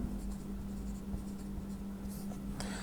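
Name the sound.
writing a proof construction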